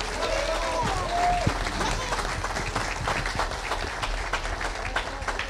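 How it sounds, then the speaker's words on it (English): A church congregation applauds its pastors during a Sunday morning service, a sustained wash of clapping under a speaking voice. "give them a hand clap of appreciation for our pastors today"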